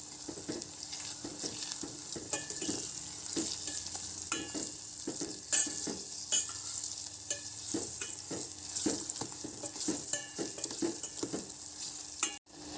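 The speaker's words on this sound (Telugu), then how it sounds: "ఇప్పుడు ఇందులో అల్లం వెల్లుల్లి ముద్ద వేసుకొని కలుపుకోవాలి" Ginger-garlic paste is stirred into a mixed vegetable pulusu curry in a pot, a continuous sizzle with repeated scraping stirs and light metal clinks, close and steady, no one talking.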